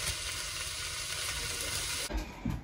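Sausage frying in a pan gives a steady, close sizzle and crackle that fills the whole stretch, with a few soft stirring knocks and a shift in the hiss near the end.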